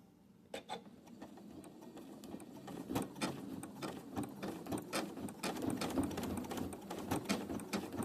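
A foot-pedal-driven sewing machine quilting embroidered blocks runs in a steady, quick mechanical whir with rhythmic clicking needle strokes, close up and moderately quiet, building slightly in speed through the passage.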